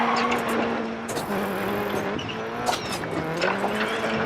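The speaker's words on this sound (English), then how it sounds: "Bit of a handbrake pull." A Subaru Impreza WRC2001 rally car in DiRT 4 revving hard with a handbrake skid, engine note dropping and climbing through gear changes while tires scrub and squeal on the surface.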